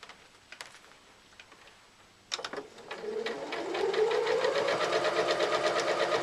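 Domestic sewing machine back tacking along a laptop bag seam, a rapid steady stitching whir building after a few sharp clicks and rising in speed, close and clear with no talk.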